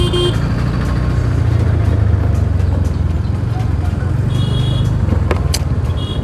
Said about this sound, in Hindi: ट्रैफिक देखो, ट्रैफिक